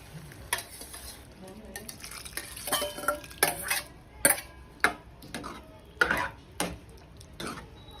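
Chickpeas tipped into a spiced masala in a kadai and stirred with a spoon, giving close, irregular scraping clicks and knocks of metal against the pan over a soft sizzle.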